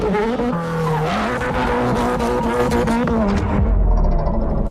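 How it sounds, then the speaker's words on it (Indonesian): A toy race car sound effect plays loudly with a revving engine tone and screeching, skidding tires, the pitch sliding up and down before it cuts off abruptly at the end. "Mobil balap."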